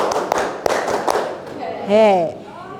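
A classroom group claps in short, slightly ragged bursts on a counting cue, the sharp hand claps close and fairly loud, followed by a teacher's voice speaking.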